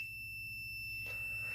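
A Stinger brake device gives a steady high electronic beep that runs unbroken through the moment, close and fairly faint, with no talk over it.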